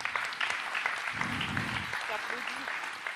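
A brief round of clapping from a small group at a general assembly meeting, fairly soft and a little distant, with some murmuring voices mixed in.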